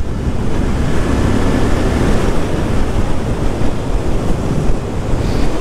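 A Royal Enfield motorcycle accelerating on the road, heard mostly as loud, continuous rushing wind buffeting the microphone with a low engine rumble buried beneath.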